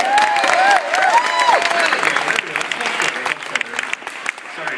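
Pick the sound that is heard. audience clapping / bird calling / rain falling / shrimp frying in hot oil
audience clapping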